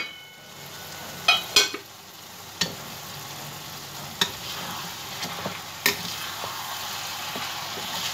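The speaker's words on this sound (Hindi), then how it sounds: "अब हम देखेंगे और इसमें हम अपना चम्मच चलाएंगे कि कहाँ तक हुआ।" A spoon stirs aloo methi, potatoes with fenugreek leaves, in a kadhai, giving a few sharp scraping clinks against the pan over a steady low sizzle of frying, with the taps irregularly spaced and close by.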